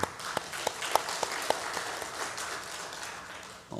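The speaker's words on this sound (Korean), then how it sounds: "박수하겠습니다" Congregation clapping together in a church service, a dense burst of applause with a few sharper individual claps standing out early, steady for several seconds and then fading.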